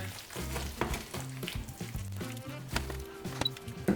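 A honey and salt sauce sizzles and bubbles in a pan as its water boils off, a steady close crackling fry with occasional stirring knocks and no talk.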